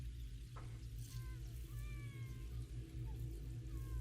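Cat-like meowing, a creepy element in the soundtrack of a tabletop fantasy role-playing session, with several drawn-out wavering cries layered over a steady low musical drone.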